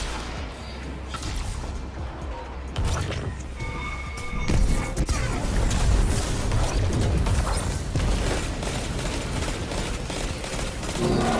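Tractor Cannon exotic shotgun from the game Destiny 2 fires amid heavy in-game combat, with repeated loud blasts, crashes and mechanical clatter layered over a dense, continuous battle din.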